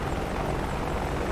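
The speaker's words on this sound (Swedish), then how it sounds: "sikta med den här förbannade helikoptern" An Apache attack helicopter in the DCS flight simulator gives off a loud, steady rotor and engine drone that stays even throughout, with no voices over it.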